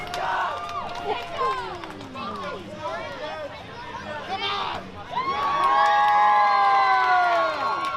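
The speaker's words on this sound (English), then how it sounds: "the crowd showing their support as Stackhouse is gonna fly" Spectators at an outdoor wrestling show at a water park cheer and shout, high children's voices and whoops mixed in, swelling louder toward the end while commentators talk over the noise.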